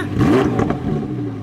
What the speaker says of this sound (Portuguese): Dá uma acelerada? Nossa senhora. Bruto, né, mano?